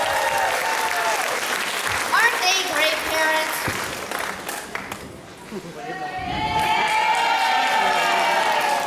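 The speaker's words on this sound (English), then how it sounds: "Clap loud if you think we were great!" An audience at a school spring sing show claps and cheers loudly, with shouts from children over the clapping. Adult voices speak over the start, the applause dips briefly midway, then swells again.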